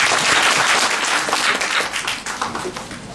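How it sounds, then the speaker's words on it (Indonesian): A church congregation applauds during a service, a loud, full round of many hands clapping close by that eases slightly toward the end. "Berikan tepuk tangan bagi Tuhan."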